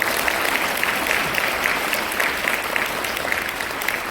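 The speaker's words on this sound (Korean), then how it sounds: "큰 박수 한번 맞주세요." Seminar audience giving a business owner a big round of applause, a steady dense wash of clapping from a crowded room, continuous and fairly even for several seconds.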